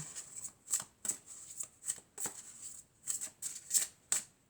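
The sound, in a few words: shuffling oracle cards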